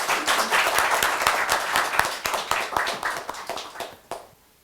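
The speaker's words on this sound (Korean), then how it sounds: "큰 박수로 모시기 바랍니다." Audience at a biodefense strategy seminar applauding, dense hand clapping from a crowd that starts full and steady and then thins out to a few scattered claps before fading.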